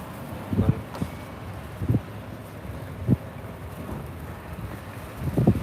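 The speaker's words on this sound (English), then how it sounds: "the wind is picking up a little bit" Wind blowing outdoors in a mountain town, heard as a low rumbling buffet with several short gusts thumping against the microphone.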